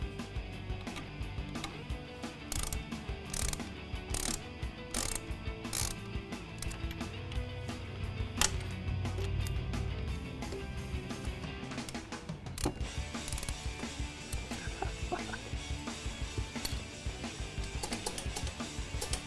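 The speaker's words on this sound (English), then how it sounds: "we're going to grab our T40 Torx bit and loosen up the factory crash bars" A ratchet wrench with a T40 Torx bit loosens the factory crash bar bolts on a BMW R1300GS motorcycle, giving quick repeated ratcheting clicks in close bursts with brief pauses, no speech.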